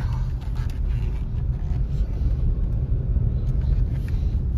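Interior rumble of a 2014 Hyundai Tucson SE AWD with a new factory engine and 136k miles, driving with steady low road and engine drone that fills the cabin.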